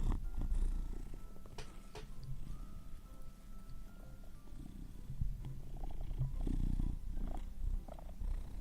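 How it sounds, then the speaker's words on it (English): A cat purrs close up in a low continuous rumble, with some handling and shuffling noises over it. "did you hear his purring? He's purring quite loudly."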